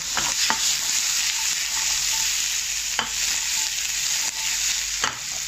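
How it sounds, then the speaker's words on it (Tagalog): Vegetables sautéing in a pan after meatballs were fried in it, a loud continuous sizzle close by, broken by a few sharp clacks of a spatula stirring, no voices. "Pagkatapos nitong i-fry ang meatballs, dito natin i-fry yung gulay. Tapos, dito natin igisa yung gulay."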